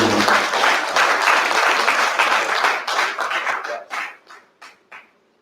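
Audience applause for an honourable minister at a Nigerian university registrars' gathering, dense clapping that thins out near the end into a few last scattered claps.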